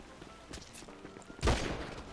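Gunfire in the video game GTA: a few faint shots early on, then one loud, close burst of shots around the middle that trails off.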